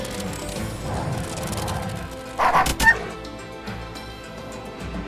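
A dog unit in the strategy game Wargroove gives a short burst of barks about halfway through, over steady background game music.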